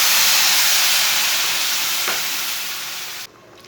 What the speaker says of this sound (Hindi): अब 2 प्याली पानी डाल लेंगे।